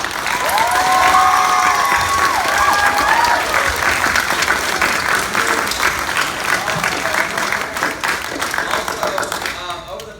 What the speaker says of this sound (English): And I want to give her another round of applause.